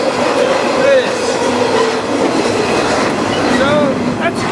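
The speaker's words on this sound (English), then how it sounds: "This train is a major priority." A train rolls past on the rails, loud and close, with a steady heavy rumble, rhythmic clatter and a few brief wheel squeals rising above it, continuous throughout.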